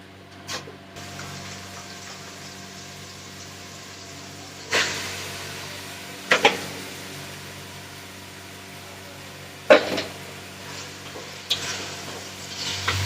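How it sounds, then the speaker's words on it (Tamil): Ginger garlic paste and onion frying in a pan, a steady low sizzle with a few sharp stirring scrapes at intervals, no voices. "Cook the ginger பூண்டு paste and onion until the raw flavor goes."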